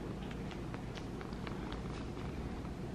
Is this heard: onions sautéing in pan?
no